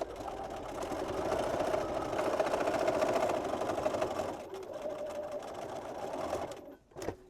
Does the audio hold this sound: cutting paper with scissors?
no